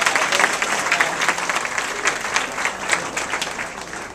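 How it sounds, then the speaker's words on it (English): Sustained applause from a large audience at a Visalus presentation event in Southern California, dense and steady clapping that runs the full length with no one speaking over it. "Big round of applause for everybody."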